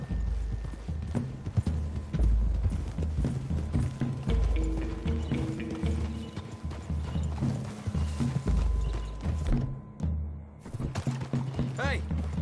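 In a Wild West setting, horse hooves clip-clop steadily over ground through trees with creaking tack, while people talk over the sound and a horse briefly whinnies near the end.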